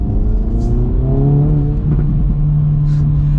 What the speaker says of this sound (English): There's the pops and bangs.